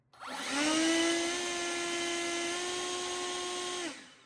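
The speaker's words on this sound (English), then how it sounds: "when you hit the turbo, you'll hear it kick up even more" A loud, steady high-pitched motor whine from an Enhulk 58V 930CFM cordless leaf blower on turbo spins up sharply, holds at full power for several seconds, then cuts off and winds down.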